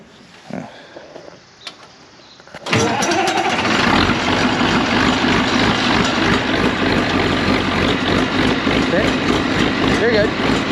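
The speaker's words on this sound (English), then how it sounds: "We're gonna turn this tractor on." A tractor engine cranks and catches after a few quiet clicks, then settles into a loud, steady rumbling idle close by.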